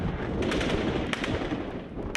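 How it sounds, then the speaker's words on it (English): Dense gunfire and shelling in the battle for Misratah, Libya: rapid machine-gun bursts and sharp shots crackle continuously, with distant heavy booms underneath, loud and with no talk. "The Gaddafi troops inside the city are supported by intense shelling from those camped on the outskirts."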